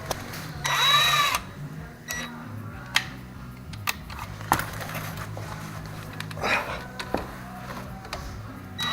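A power drill tightens a bolt during a brake pad replacement on a 1999 Saturn SL2, with a short whirring burst near the start, then scattered clicks, clanks and another brief whir in a garage.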